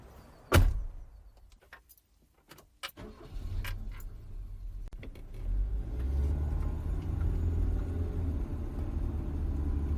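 A car in a radio drama: a door slams, keys jangle, then an engine starts and settles into a steady low rumble, heard close with no talk.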